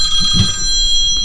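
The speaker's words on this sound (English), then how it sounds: "Your phone's ringing, Jonathan." Telephone ringing aboard a 2018 Colvic blue water cruising sailing yacht: a loud, close electronic ring tone with steady sustained tones and a brief burst near the start.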